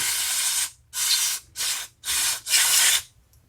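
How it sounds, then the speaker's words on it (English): Five steady bursts of aerosol spray into a lawn mower's carburetor jets, each about half a second of bright close hiss separated by brief pauses, with no voices. "And just give it a good sort of spraying."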